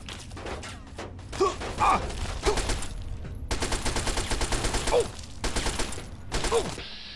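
Rapid bursts of gunfire aimed at turrets in the video game Fallout 3, firing in repeated volleys with short gaps, loud and close, with a voice heard faintly under the shots.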